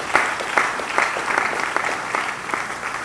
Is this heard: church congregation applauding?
yes